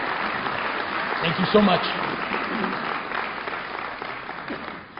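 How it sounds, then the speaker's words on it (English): An audience at a Muslim American community gathering in Virginia applauds mosque leadership with steady, moderately loud clapping that fades toward the end, while a speaker talks briefly over it. "Round of applause to mosque leadership"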